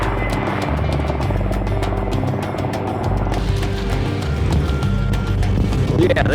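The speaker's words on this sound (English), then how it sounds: "The helicopter arrived, picked it up, and took it away." A helicopter's rotor chops steadily in a loud, rhythmic thumping, with a heavy low engine drone, close by and continuous.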